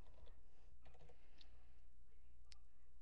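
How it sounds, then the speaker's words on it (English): Typing on a computer keyboard while setting up an Outlook Express message rule: faint, sparse key clicks over a steady low background hum, with no talking. "So right here, I'm going to type in Dale"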